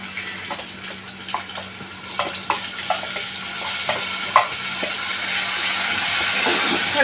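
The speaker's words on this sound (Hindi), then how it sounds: "देखो फ्रेंड्स टमाटे डाल दिए।" Tomatoes fry in a pan with a steady sizzle that builds louder over the clip. Soft clicks of stirring come through in an irregular rhythm, close up and with no talking.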